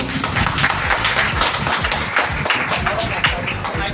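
A crowd at a women's empowerment event gives loud, continuous applause to welcome a little girl who is about to sing a song. Busy clapping fills the room while voices carry on beneath it.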